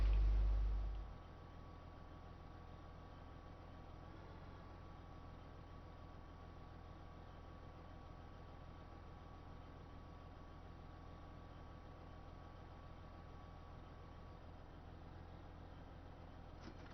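Farm tractor engine idling in a farming video game while bales are tipped at a barn, a steady low droning hum with a faint mechanical whine, even and unbroken throughout.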